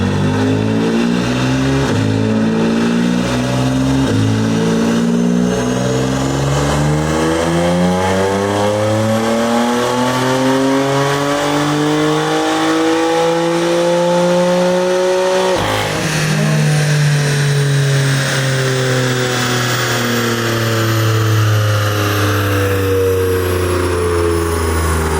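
A BMW F80 M3 engine on a dyno climbs steadily through its revs in one long, loud pull, then drops off sharply and settles to a lower drone, heard close up.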